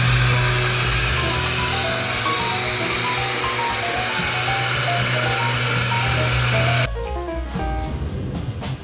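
A power sander runs on a wooden workbench built indoors, giving a steady, loud, close whirring drone with a constant hum that drops to a rougher, lower tone near the end.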